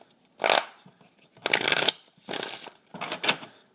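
Tarot cards are shuffled by hand in four quick riffling bursts separated by brief pauses, close and fairly crisp.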